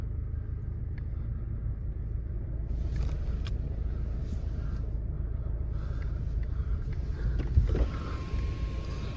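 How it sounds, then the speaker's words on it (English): A Ford Focus 2.0 EcoBlue Vignale automatic diesel with 66,079 miles starts and settles into a steady idle, a low continuous rumble heard close up and alone throughout. "Just start the car,"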